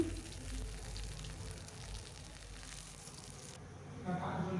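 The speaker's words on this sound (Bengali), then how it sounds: "এক পিঠ ভাজা হয়ে গেছে, অন্য পিঠ উল্টে দিচ্ছি।" Small puti fish fry in a pan, making a soft, continuous sizzle that fades toward the end, with brief kitchen clatter and a voice near the close.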